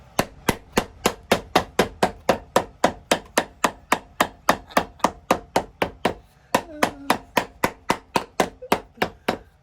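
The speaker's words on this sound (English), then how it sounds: "Don't complain later that your eardrums just blew out when I'm about to hammer." Rapid, steady hammer blows on shark skin chukka boots, about three per second, loud and close, continuing without pause; a faint voice briefly murmurs partway through.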